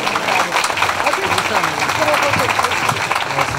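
Audience applause at a ceremonial event in Bingöl, welcoming Turkey's Development Minister Cevdet Yılmaz to the microphone: steady, dense clapping from a crowd, continuous and fairly loud throughout, with no talk over it.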